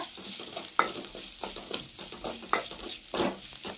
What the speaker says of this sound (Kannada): ಈ ಥರ ಫ್ರೈ ಮಾಡ್ಕೋಬೇಕು